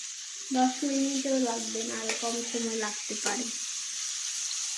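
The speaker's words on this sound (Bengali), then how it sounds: "মিট বক্সের আলুগুলোকে ফ্রাই করা হচ্ছে" Potatoes frying in oil for a meat box, a soft close sizzle with a run of quick clinking stirs through the first three seconds, then an even hiss carrying on alone.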